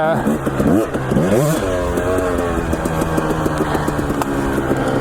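Husqvarna TE250 two-stroke dirt bike engine while riding, with sharp rising revs early on that settle into a loud, steady buzzing drone, heard up close.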